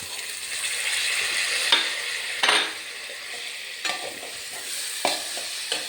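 Chicken curry with black pepper and tomatoes fries in a pan under steady soft sizzling, while a spoon stirs and scrapes the pan in a few sharp strokes.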